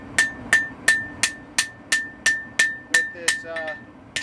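A light ball peen hammer strikes hot steel while a one-piece Bowie knife is forged, about ten crisp ringing whacks in a steady, even rhythm, close and loud, with a brief spoken remark near the end.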